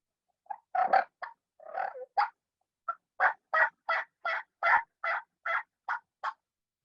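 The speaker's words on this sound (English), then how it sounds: "I'm throwing some clucks." A turkey call used in spring turkey hunting, making a series of short, sharp clucks, loud and close, first in uneven bursts and then a steady run of evenly spaced notes.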